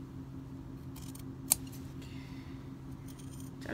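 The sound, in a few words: scissors cutting denim jeans hem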